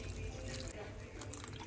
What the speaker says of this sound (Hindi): पानी भी डाल दो भाई,